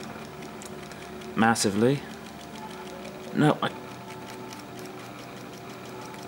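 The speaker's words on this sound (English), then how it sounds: "No, I can't stall the motor out." A bench-mounted washing machine motor runs under load with a steady mechanical whir and tick, close and continuous, while someone speaks briefly over it.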